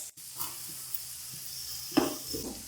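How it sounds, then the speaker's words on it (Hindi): Soft, steady sizzling from a pan while frying for dhaba-style danedar keema, near and fairly quiet, broken by a few light stirring scrapes and clinks. "हल्का सा हम फ्राई करेंगे।"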